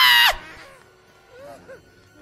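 A woman lets out a short, piercing scream of fright right at the start, cut off sharply and followed by quiet background sound.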